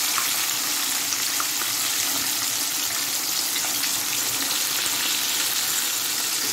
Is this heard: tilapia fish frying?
yes